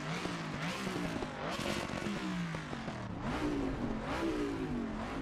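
A race car engine in Assetto Corsa Competizione revs hard and continuously, rising and falling in pitch through several throttle blips, loud and close with no talk over it.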